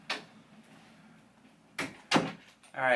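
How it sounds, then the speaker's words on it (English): A house door swings shut with a couple of sharp knocking thuds and a latch click, close by and fairly loud in a quiet room, and a brief voice-like sound follows at the end. "I'm gonna close this door because I don't want the dogs in."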